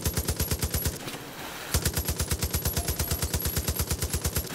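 Rapid, loud carbine gunfire from Far Cry 5 rattles out in fast, evenly spaced bursts. A brief pause near the one-second mark breaks the firing before it resumes and continues steadily.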